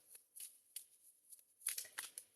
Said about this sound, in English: while I'm shuffling Patricia's cards